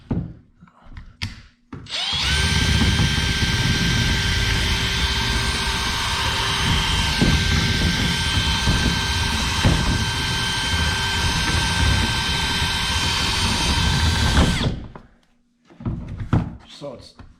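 A power drill fitted with a 1-inch Forstner bit whines steadily for about twelve seconds, loud and close, while it cleans out a hole bored in a kayak hull. A few brief knocks come before it and short bumps follow once the drill stops.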